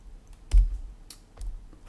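A few scattered keystrokes on a computer keyboard, typed while entering an exclamation mark in a search settings page. The clicks are soft and sparse, with a slightly firmer tap among them.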